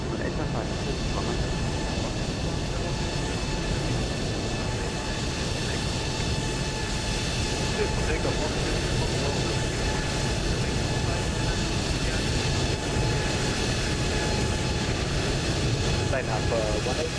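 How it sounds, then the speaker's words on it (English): Airbus A380 taxiing at Frankfurt airport in Microsoft Flight Simulator 2020, a steady, sustained jet engine hum and whine that holds level throughout, with a person talking over it. "Just a random 380 just taxiing in front of us."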